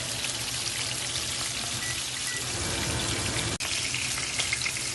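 Hilsa fish pieces frying in a pan make a steady, dense sizzle with a fine crackle, constant and close with no talk.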